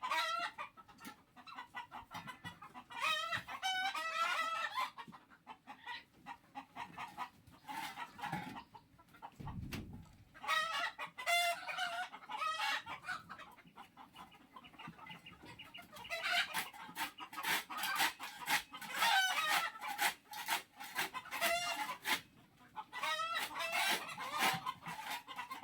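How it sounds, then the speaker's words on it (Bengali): Desi and farm chickens cluck and squawk steadily in a poultry shed, a busy flock with overlapping calls and occasional crowing, fairly quiet and without talk. "এখানে সবগুলো মিক্স, দেশি মুরগি প্লাস ফার্মি মুরগি সবগুলোই আছে"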